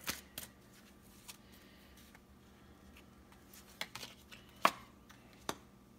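Tarot cards being shuffled by hand, with soft scattered riffles and a few sharper card snaps and taps, quiet and close with no talking.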